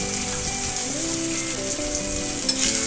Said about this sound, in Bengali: এবার অল্প কিছুক্ষণের জন্য নেড়ে চেড়ে মিক্স করে নেব।